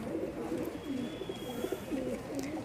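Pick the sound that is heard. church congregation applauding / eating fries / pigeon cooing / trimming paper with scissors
pigeon cooing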